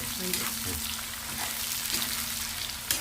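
Cashews and peanuts fry in hot oil in a pan while making semiya upma, giving a steady close sizzle with a few soft stirring knocks throughout.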